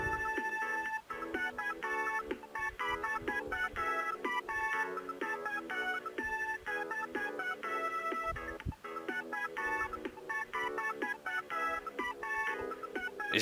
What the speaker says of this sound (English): Let's listen to this ringtone.